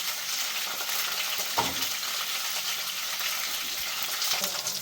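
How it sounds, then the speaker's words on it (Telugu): Cauliflower pieces fry in hot oil, giving a steady bright sizzle throughout with brief stirring clatters. "ఇప్పుడు మనం కాలీఫ్లవర్ వేయించేసుకుందాం."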